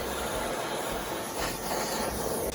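Gas torch flame roasting onion and carrots in a kitchen, a loud, steady roaring hiss that continues unbroken throughout with no talk.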